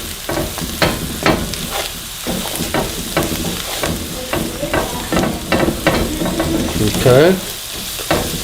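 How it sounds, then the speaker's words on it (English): Cajun seasoning and crawfish boil stirred in a sizzling pan, repeated close scraping strokes over steady frying hiss, with a brief spoken word. "we'll just kind of stir that around a little bit"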